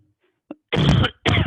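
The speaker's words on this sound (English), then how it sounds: "Just clearing my throat here." A person clears their throat in two short, rough bursts after a faint click, close and loud in otherwise quiet surroundings.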